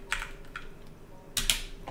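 A computer keyboard is typed on in a few short, soft bursts of clicking keys, close by in a quiet room with no voices.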